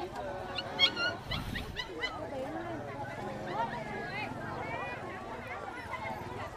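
Dogs at a highland market in Lùng Phình, Bắc Hà, Lào Cai, with scattered barks and whimpers amid a busy crowd, voices talking throughout near the pig and dog stalls.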